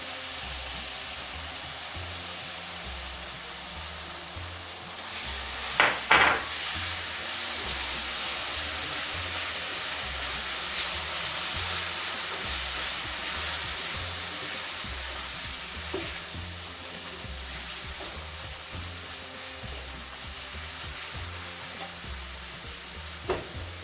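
Masala paste for a lamb curry sizzles and fries steadily in a pan, a continuous hiss with a few brief stirring clatters, close and alone without talk.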